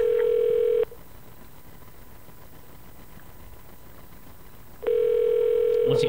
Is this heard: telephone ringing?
yes